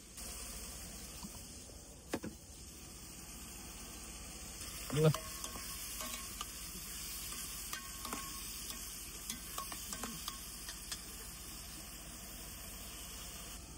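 Pasta with chillies stirred in a pan, a quiet steady sizzle with intermittent utensil scrapes and one louder knock against the pan, over a faint background hum.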